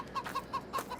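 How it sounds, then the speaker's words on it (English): Chickens clucking on a farm in Farming Simulator 22, a short series of evenly spaced soft clucks, fairly close and faint, with no other sounds. "I think the chickens are okay."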